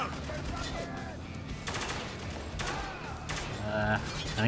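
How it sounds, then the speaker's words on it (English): Video game gunfire from the shooter Spec Ops: The Line comes in several bursts of rapid automatic shots, separated by gaps, with someone talking over the action. "And now, I will kill you by shooting you in the knee!"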